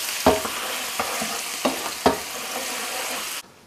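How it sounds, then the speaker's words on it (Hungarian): Kolozsvár-style bacon frying in a pan, a steady close sizzle broken by several sharp stirring or scraping knocks, with no talk, ending abruptly. "miközben sül a kolozsvári szalonna"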